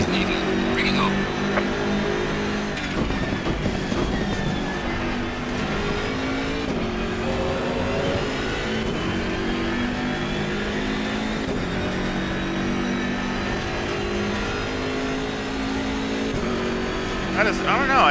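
A BMW M6 GT3 race car in Assetto Corsa Competizione at Mount Panorama drones steadily at high revs, with snarling shifts and turbo noise, loud and continuous while someone talks over it.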